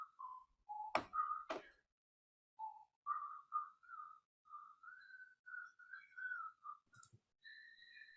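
A person whistles a meandering, wandering tune absent-mindedly while thinking, soft and close, with a couple of sharp clicks or knocks early on and a brief bump near the end.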